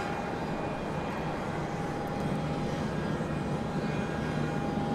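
An American Airlines Airbus A321 jet arriving from Buffalo at Charlotte Douglas airport rumbles steadily in the distance on a windy day, a constant broadband roar with a faint high tone, no voices.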